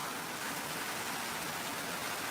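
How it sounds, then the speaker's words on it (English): Heavy rain from a hurricane rain band pours down in a dense, steady hiss, continuous and even with no breaks, fairly quiet overall. "this water is really coming down hard now"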